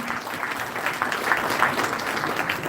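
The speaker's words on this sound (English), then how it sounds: "Let's give him a big round of applause, ladies and gentlemen." Audience applause at the Goa Open Innovation Challenge 2025 event, steady, even clapping from a crowd throughout, moderately loud with no speech over it.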